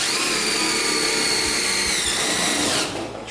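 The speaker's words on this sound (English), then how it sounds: "I'm drilling through the metal until I hit the wood." A power drill bores through a metal roof panel into the wood beneath while a tiny house roof is being attached, giving a loud, steady, high-pitched whine that runs continuously before dropping off near the end.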